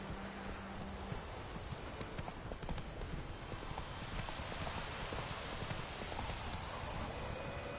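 Roach, the horse in The Witcher video game, trots with rapid, steady clip-clop hoofbeats over a dense bed of ambient game noise and faint rain, continuous and fairly loud throughout, without any speech.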